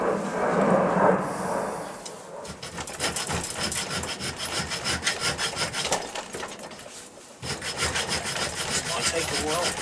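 Steady back-and-forth rasping strokes while a bolt hole is elongated in a bracket on an XS650 motorcycle, close and continuous with a brief lull near the end and no talking.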